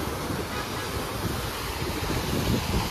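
Sea waves and strong wind at Marine Lines on the Mumbai seafront at night, a dense, continuous roar of surf and gusting air buffeting the microphone throughout.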